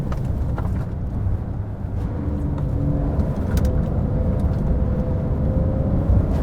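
A new-generation Porsche 911 powers out of a corner on a winding road, its engine a steady, sustained roar under hard acceleration with rising tone, continuous and fairly close throughout.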